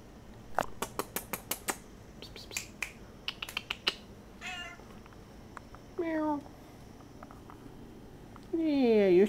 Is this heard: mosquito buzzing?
no